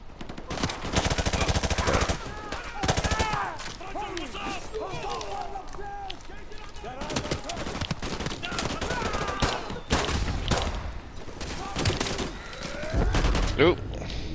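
Rapid automatic gunfire and bursts of shots fill a Call of Duty Modern Warfare 2 Remastered firefight, loud and continuous with voices calling out over the shooting.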